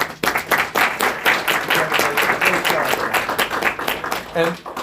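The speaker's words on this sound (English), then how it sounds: "They all deserve a round of applause for their support." Audience applause at a school board of education meeting, a steady crowd clapping that fills the room and holds at an even level, with a voice surfacing near the end.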